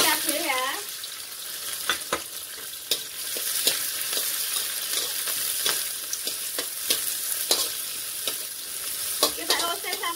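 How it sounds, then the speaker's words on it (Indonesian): Shallots, garlic and chili spice paste stir-fried in a pan, a steady close sizzle broken by repeated scraping and clacking strokes of a spatula, with no talk. "Kita oseng sampai matang ya."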